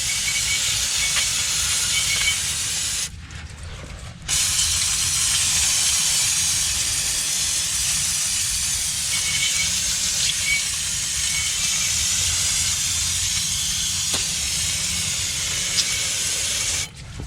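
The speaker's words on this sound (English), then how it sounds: "Take some brake cleaner." Brake cleaner from an aerosol can sprays onto car brake parts during rear brake work on a Hyundai Tucson, a loud, steady hiss held for long stretches with one brief pause near the start, close up and with no talk.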